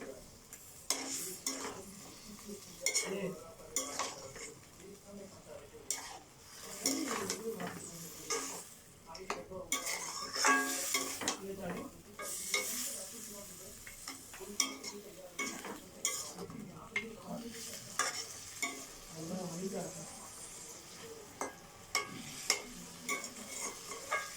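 Food being stirred in a pot after a splash of water is added, with repeated scraping and clattering of a spoon against the pan over a soft sizzle, ongoing and close.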